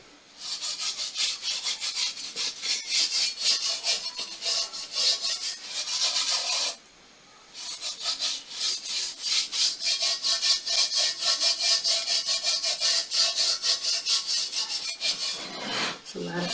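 Steady scrubbing of a rusted cast iron pot, a continuous harsh abrasive rasp with a brief pause partway through, close and loud with no talking.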